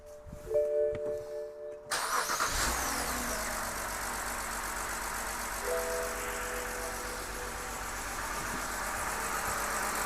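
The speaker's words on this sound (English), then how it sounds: "Now we're going to go ahead and start the engine" A BMW E90 328i with the N52 inline-six, fitted with a replacement starter, cranks briefly and catches, then settles into a steady close idle with a slightly uneven, misfire-like roughness.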